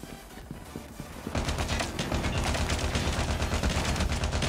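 Gunfire in the mobile shooter Call of Duty Mobile, with a player on a shotgun, starts after a short quieter stretch and becomes a dense, continuous barrage of loud, close, rapid shots.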